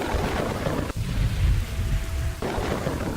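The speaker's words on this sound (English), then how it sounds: "Man, there's a lot of rain." Rain and thunder in the video game Kingdoms and Castles: heavy rain hisses steadily while a deep thunder rumble rolls underneath, briefly dipping before the downpour and rumble return at full strength.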